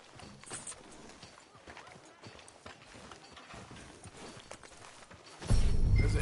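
Horse hooves clip-clop in a steady walking rhythm in the Red Dead video game, moderately loud over ambient noise, until a much louder burst of sound covers them near the end.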